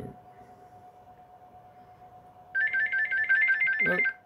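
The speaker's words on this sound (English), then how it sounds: "Oh, that's my phone, 2 seconds." A mobile phone ringtone starts abruptly and repeats as a loud, bright, pulsing melody for nearly two seconds, heard over a steady electrical hum in a workshop where a transformer is being wired.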